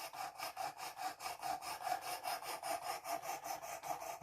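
Knife blade stroked repeatedly along a Work Sharp precision sharpening system, a steady rhythmic rasping scrape, about two strokes per second, close and alone with no talking.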